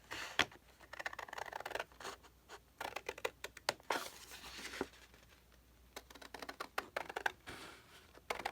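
Scissors cutting out paper pieces for a journal, close and quiet, with irregular snips, rustles and scratchy paper handling throughout.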